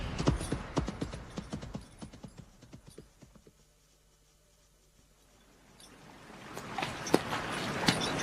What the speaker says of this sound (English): Your horses seem to be treading uneasily